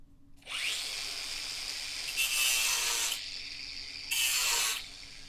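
Notches cut into a titanium knife blank with a power tool, a close harsh grinding whine in three sustained bursts, the second and third brighter and louder, with a low steady hum underneath.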